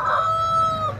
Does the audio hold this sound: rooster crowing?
yes